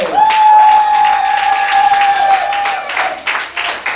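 A church congregation breaks into steady, loud applause filling the room for several seconds, with a sustained tone and a few voices rising over the clapping before it thins out.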